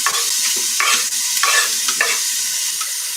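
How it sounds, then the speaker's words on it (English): Onions sautéing in coconut oil in a pan for a red lentil dal, a loud continuous sizzle with periodic stirring strokes, no voices. "what we're gonna do is we're gonna saute the onions"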